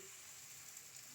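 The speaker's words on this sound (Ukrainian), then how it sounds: "смажимо тоненькі такі" Soft, steady sizzling of thin onion crepe batter frying in a hot pan, a continuous gentle crackle with no talking.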